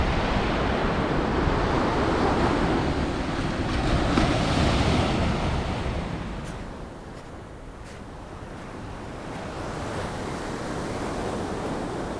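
Sea waves washing onto a seaside shore with steady wind noise buffeting the microphone, a continuous broad roar that swells and eases, loud at first and softer midway before building again, with no talking.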